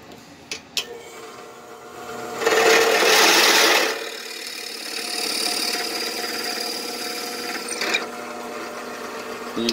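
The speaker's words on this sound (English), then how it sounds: "I have the drill press set up here." A drill press bores a hole into a wooden banjo neck, its motor whine building into a loud grinding cut for about a second and a half, then easing back to a lighter hum with a few clicks.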